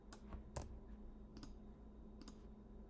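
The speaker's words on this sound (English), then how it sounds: "Type it in here." Keystrokes tap out on a computer keyboard while someone enters a website address into a search bar, giving a few brief separate clicks over a steady background hum.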